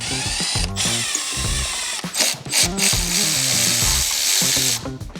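A ratchet wrench works loose the battery connections on an LBZ Duramax truck, making a loud, close, continuous whirring and clicking mechanical rattle with a few short breaks.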